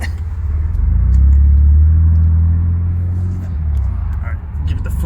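A supercharged car engine with a leaking fuel pressure regulator is pushed to full throttle, producing a loud, deep, sustained roar that swells, eases and builds again close by.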